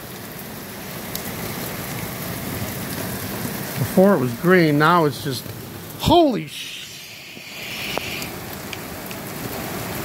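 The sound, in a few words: rain pouring down during a sunny thunderstorm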